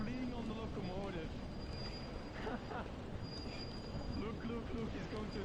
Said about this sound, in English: he's fleeing on the locomotive